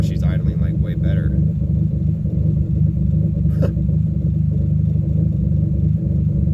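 A boosted Honda Civic EG engine idles with a smooth, steady low rumble heard up close, with faint brief sounds near the start riding over the engine note.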